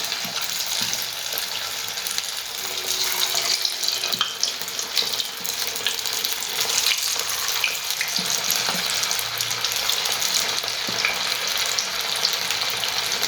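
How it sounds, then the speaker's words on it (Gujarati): Frozen, ice-coated potato fingers fry in hot oil with a continuous, dense sizzle and crackle that holds steady and fairly loud throughout, with no voices. "ફ્રીઝરમાંથી મેં કાઢ્યા છે પોટેટો ફિંગર્સ. હવે આપણે તેલમાં તળી લઈએ."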